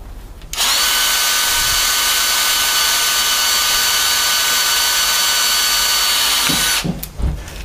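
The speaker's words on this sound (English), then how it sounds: "now we've got our holes drilled" A power drill boring screw holes for ski touring bindings, a loud steady high whine that starts abruptly and runs unbroken for about six seconds, then stops, followed by a couple of short knocks and clatters close by.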